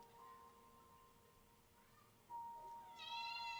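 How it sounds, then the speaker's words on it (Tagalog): A pet cat gives a quiet, drawn-out meow near the end over low room hiss, with no one talking. "Nandito yung pusa ko, si Neo."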